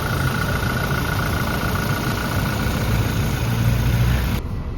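A Toyota Fortuner engine idles steadily and close up, a continuous low rumble with a faint hum, warming the automatic transmission fluid before it is changed; the sound cuts off abruptly near the end.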